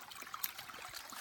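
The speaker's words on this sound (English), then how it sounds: "And I just dip it in the creek," A towel is dipped into a small creek beside a campsite, and steady, faint trickling water runs throughout, with light splashy flutters and no voices.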